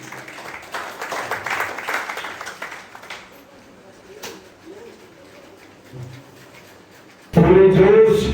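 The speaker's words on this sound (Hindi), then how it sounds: "जोरदार तालियों से स्वागत कीजिए" An audience claps to welcome teams onto the stage of a Hindi school quiz quarter-final, brisk applause for about three seconds that then fades into quiet room noise before a loud burst at the end.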